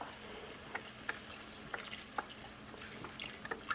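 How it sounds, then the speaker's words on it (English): Chicken broth is poured into a pot for a white soup, giving a quiet, continuous liquid hiss and gurgle, with a few faint clinks scattered through it, close by and with no talking. "We're adding the chicken broth."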